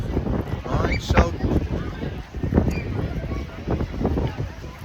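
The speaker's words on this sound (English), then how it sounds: "it's really windy" Strong gusts buffet a microphone outdoors, with heavy low rumbling bursts that swell and fade over a voice speaking in the open air.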